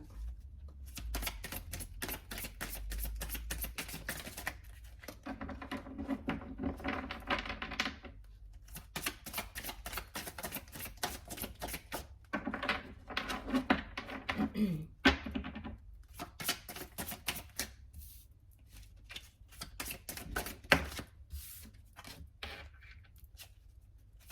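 Tarot cards shuffled and drawn, a soft rapid riffling and flicking that comes and goes in several bursts with quiet gaps, close by.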